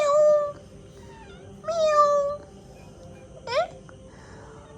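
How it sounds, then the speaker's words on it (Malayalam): A pet cat gives three drawn-out meows about a second apart, each rising and then falling in pitch, close and clear over a quiet background. "പൂച്ച സാർ"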